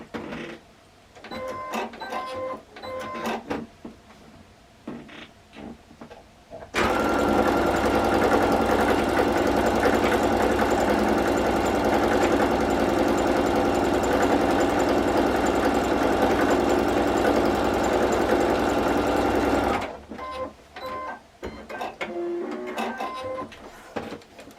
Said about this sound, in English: you just stitch it again, 1/4 inch seam